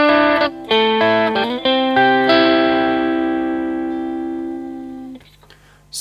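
An electric guitar plays the intro of a song, a few quick picked notes and chord changes, then a last chord ringing out and slowly fading, loud and close, with no talking.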